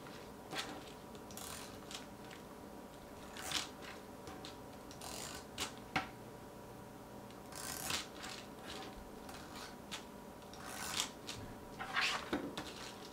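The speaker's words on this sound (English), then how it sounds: "we're gonna use our tape runner. And we're just gonna add some tape around the edges of that star treat cup" A tape runner rolls adhesive tape along the edges of a paper star for a patriotic treat cup, giving soft, intermittent clicking and ratcheting taps at irregular intervals, close and quiet.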